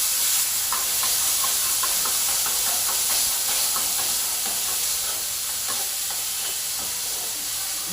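Tomato and garlic paste hits a hot pan with dried chillies and tempered mustard seeds, producing a loud, continuous hiss and sizzle with light crackle that stays steady throughout, close by and without any talking.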